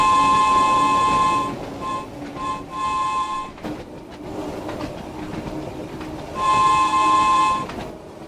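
A train horn sounds in loud sustained blasts, one long, several short bursts, then another long blast, over rumbling rail noise and clatter, as the train accelerates in the video game Train Sim World 2, Island Line.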